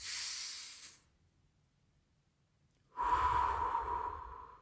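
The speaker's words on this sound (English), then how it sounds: "Take a deep breath." Two deep breaths, a long airy exhale, a pause of silence, then a strong noisy inhale or exhale through the nose and mouth, close up, during a guided breathing exercise.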